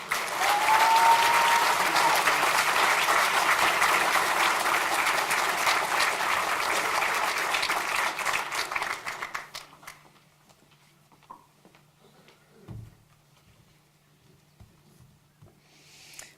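A banquet audience applauds at a hall of fame awards dinner, with steady, dense clapping for about nine seconds that then stops abruptly, leaving a quiet room with faint shuffling.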